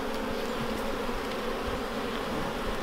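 Honey bees swarm around freshly opened hives in a steady, dense buzz that holds close and unbroken throughout, with no voices over it.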